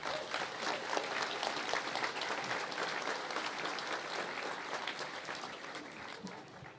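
Crowd applause at a hurling team homecoming, steady dense clapping from a large gathering heard at moderate distance, gradually thinning toward the end.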